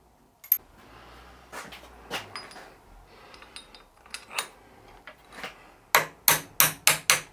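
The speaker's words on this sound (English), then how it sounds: "we'll give it a little tap, see what sort of fit it is" A hammer tapping a pulley onto its shaft: scattered light taps early on, then five sharp, evenly spaced metallic knocks close by near the end, with no voices.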